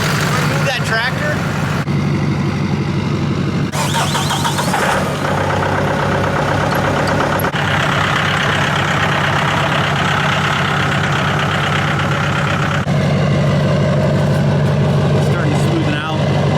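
A Duramax diesel truck engine idles steadily after a head gasket replacement, a continuous low rumble running throughout while people talk nearby over it.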